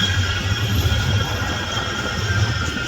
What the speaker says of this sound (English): Oh, I'm racing a tram.